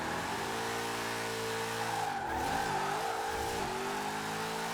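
Ford Mustang fastback drifting in Forza Horizon 4, its engine droning steadily near and loud with harmonic revs that dip and climb mid-slide, tire squeal layered over the whole run.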